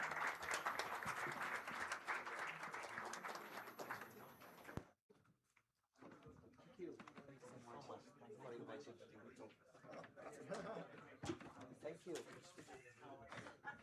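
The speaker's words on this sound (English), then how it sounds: "And please give them a round of applause." Clapping from an audience at a university and schools education event, a burst of applause that cuts off abruptly, then lighter scattered claps mixed with voices talking.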